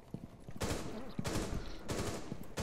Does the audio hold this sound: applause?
no